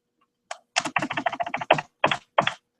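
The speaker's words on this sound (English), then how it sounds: "I'm typing." Brisk typing on a computer keyboard during a live stream, a close burst of rapid key clacks followed by a few slower, heavier presses, with no talk over it.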